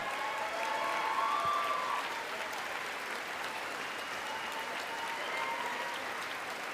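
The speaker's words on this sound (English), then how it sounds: "Compelled to clap." Crowd applause at a political speech, a sustained wash of clapping from a large audience that swells early then holds steady, heard from a distance.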